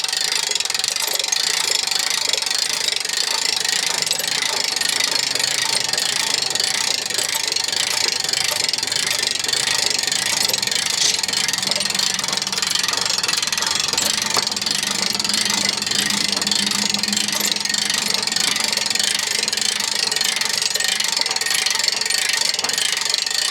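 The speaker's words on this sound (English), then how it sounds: "just has a normal crank handle here, up one way, down the other. It couldn't be any simpler. It has a ratchet that holds it from coming down" A crank handle with a ratchet winds up a tilting telescoping wind turbine tower, giving a continuous fast clicking of the pawl that runs close and steady throughout with no pauses.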